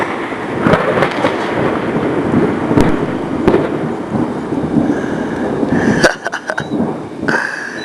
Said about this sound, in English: If you heard the thunder and the lightning outside